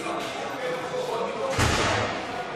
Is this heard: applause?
no